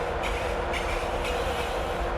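A Class 91 electric train on the East Coast Main Line between Newcastle and Edinburgh in Train Simulator 2016, accelerating with a steady rolling rumble and faint rhythmic clicks of the wheels on the rails.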